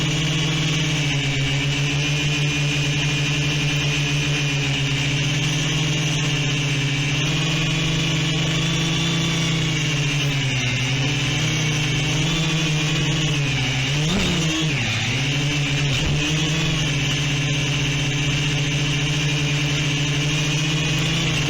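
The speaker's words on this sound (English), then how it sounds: "It's quite a big heavy quad" Steady, loud multi-tone motor whine from a large, heavy quadcopter drone named Palantir 3 as it lifts off and flies, the pitch dipping and surging briefly midway as throttle shifts, with no talking.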